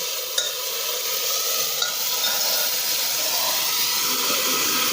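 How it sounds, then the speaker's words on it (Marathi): Tomatoes are stirred into onions fried until red for pav bhaji, a continuous close sizzle and hiss under steady stirring, with a couple of faint utensil taps and no speech. "आता याच्यामध्ये टमाट टाकून घेऊया ते पण असं मिक्स करून घेऊ"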